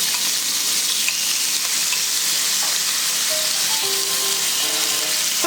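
Shrimp and scallops sizzle in hot oil in a wok, a steady close frying hiss that runs throughout, with faint stirring clinks and small pops near the end.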